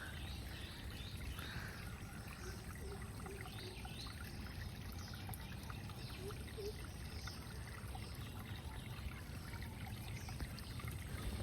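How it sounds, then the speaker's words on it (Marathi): A small waterfall along steps on a wooded path to a temple gives a steady, soft trickling rush of falling water at a moderate distance, continuous and low throughout. "हे छोटासा धबधबा"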